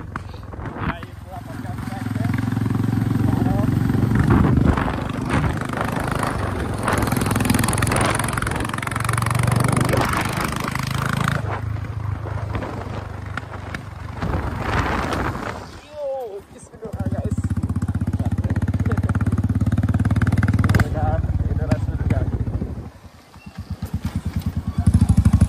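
A Royal Enfield Hunter 350 with no silencer revs up and down close by, loud and rough, with brief dips as the throttle closes between surges.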